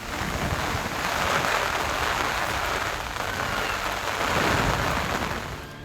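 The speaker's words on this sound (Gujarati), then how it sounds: "ભારે વરસાદ પડ્યો જેના કારણે રસ્તા પરથી પૂરની જેમ પાણી વહેતા થયા હતા" Heavy monsoon rain pours down in Gujarat as water floods across the roads, a dense, loud and continuous hiss of downpour that stays unbroken throughout.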